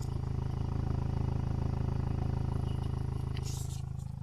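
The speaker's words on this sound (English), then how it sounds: "Tractor noises." Steady low engine drone with a rhythmic pulsing throb, consistent and fairly close, from a tractor or similar heavy engine running on a sunny day; a brief hiss of higher noise near the end.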